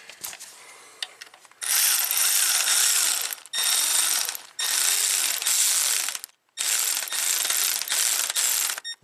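A ratchet clicks rapidly in four loud bursts with short pauses between, tightening a tensioner bolt on a VW Passat 1.8T engine, close and alone.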